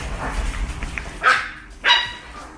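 Chihuahua puppies give two sharp, high yaps about half a second apart, close by and standing clearly above a soft, noisy background.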